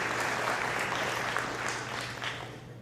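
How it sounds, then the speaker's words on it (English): A large audience at a Martin Luther King Jr. celebration at Lewis and Clark gives a rousing round of applause, a dense, even roar of clapping that holds steady throughout over a low hum. "Please help me give them a rousing applause"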